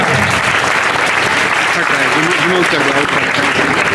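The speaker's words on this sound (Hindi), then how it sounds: "और जोर से ताली बजाइए आप।" Loud, sustained clapping from a school audience at a Teachers' Day celebration, thick and continuous, with voices faintly audible beneath the applause.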